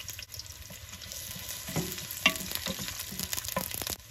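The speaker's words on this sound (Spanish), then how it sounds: "voy a poner la cebolla a freír" Onion frying in hot oil for shredded pork: a faint, low sizzle with scattered soft crackles and a few small clinks, steady throughout and without voices.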